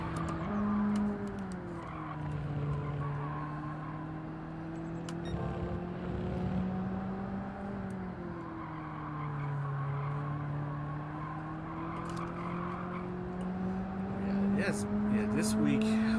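Engine drone of a car lapping the Deep Forest track in Gran Turismo 7, its pitch rising and falling through gear changes with tire squeal at intervals, playing under someone talking.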